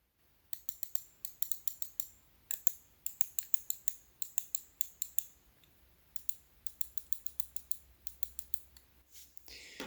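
Crisp mouse button clicks from a Cooler Master MM711 or Glorious Model D in quick bursts and clusters, close and dry, with short pauses between groups over a quiet background.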